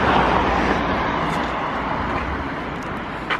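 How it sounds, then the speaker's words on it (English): Dense car traffic on a busy road beside a house, a constant broadband roar of passing vehicles that stays loud and near for several seconds with no voices. "You can probably already hear the car as well."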